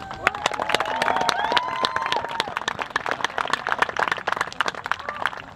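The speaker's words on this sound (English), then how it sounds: "give them a big round of applause." Crowd at a Civil War battle reenactment in Zoar, Ohio gives sustained outdoor applause, a dense patter of many hands clapping at moderate distance, with a few faint whistles or cheers.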